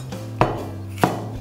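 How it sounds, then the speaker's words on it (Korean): Kitchen knife slicing peeled celery at a diagonal on a cutting board, with two distinct sharp chops about half a second apart over a low steady hum, close and moderately loud. "어슷어슷해서 썰어 볼게요"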